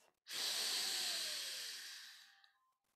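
A single deep, drawn-out breath during qi gong practice, a close, airy rush of air swelling quickly then slowly fading over a couple of seconds, with no talking.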